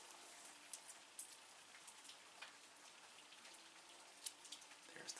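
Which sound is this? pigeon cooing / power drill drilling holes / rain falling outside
rain falling outside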